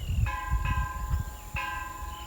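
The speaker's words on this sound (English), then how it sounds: "So hear the bell over there, it means church." A church bell rings out across a former wartime airfield on Guadalcanal on a Sunday morning, several evenly spaced metallic strikes with long ringing tones over steady outdoor background noise.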